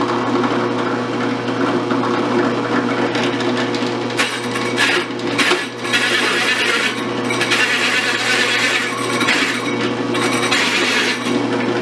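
A Lenox hole saw chucked in a drill press bores into wood, a steady whirring grind with rough, rasping bursts as the bit is raised and lowered through the cut.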